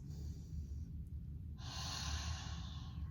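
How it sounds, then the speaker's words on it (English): A slow, audible inhale through the nose during a yoga-style breathing exercise, soft at first, then a stronger, airy in-breath close to the microphone. "So inhale through your nose."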